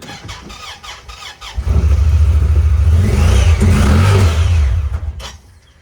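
A side-by-side UTV with suspected clutch trouble revs hard while standing still, its engine roaring loudly and close for a few seconds with rising and falling pitch before dropping back to idle.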